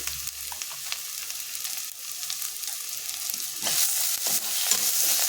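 Red chilli, turmeric, coriander powder and salt fry in oil for a pea and chickpea usal, a soft sizzle with spoon scrapes and stirring taps that turns louder and brighter near the end.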